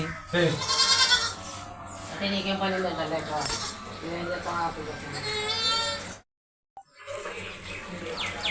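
Month-old goat kids and sheep bleat repeatedly at close range in a village yard, their cries mixed with faint clinking while someone talks over them throughout.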